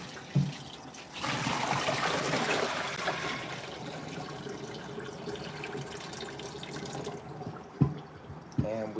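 Liquid drains from a juicer during juicing prep, a steady close trickle and wash of water running for several seconds, with a few sharp knocks near the end.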